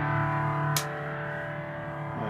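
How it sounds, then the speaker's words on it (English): A sustained, heavily distorted electric guitar chord from a Godin Summit Classic Convertible on the bridge pickup rings out through a Roland Cube amp, with a brief scratchy pick noise partway through. "we are playing through a Roland Cube Light, and here's some demo with distortion"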